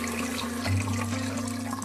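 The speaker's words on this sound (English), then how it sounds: "And now I'm going to add 2 cups of water to this." Two cups of water poured into a hot Instant Pot over one cup of brown rice, a steady close splashing gush with a low hum beneath, no voices.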